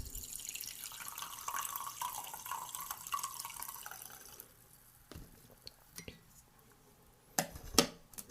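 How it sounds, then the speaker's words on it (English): Brewed green tea pours from a pot into a cup in a quiet room, a faint liquid stream lasting a few seconds, followed by soft clinks of the cup and pot being set down. "let's give that a pour"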